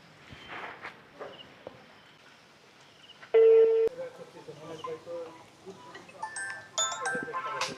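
A telephone gives a single loud electronic tone lasting about half a second, set against quiet footsteps and soft background voices.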